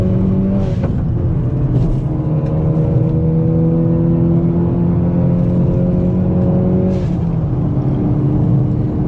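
Engine of a Hyundai Veloster N heard from inside the cabin, a steady loud drone with sustained tonal hum that shifts slightly in pitch, with no talking.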